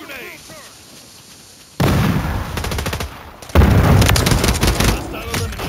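Grenade explosions and gunfire in the Warzone battle royale video game: two sudden loud bursts of gunfire and blasts, the second heavier, continuing as dense rattling fire after a quieter opening with faint voice-like sounds.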